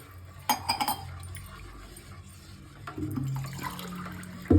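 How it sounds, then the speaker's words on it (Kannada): Water splashes and pours into a metal pot of porridge with milk, with clinks of utensils, a brief quiet stretch, then more pouring and a clunk at the end. "ಈಗ 1 ಗ್ಲಾಸು 3 ಗ್ಲಾಸಷ್ಟು ನೀರು ಹಾಕ್ರಿ"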